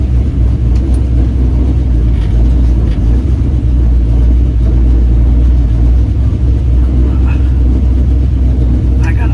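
A cab-over Chevy van conversion backs out of a driveway with a loud, steady low engine rumble that fills the whole stretch at close range.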